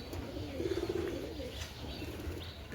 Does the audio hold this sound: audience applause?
no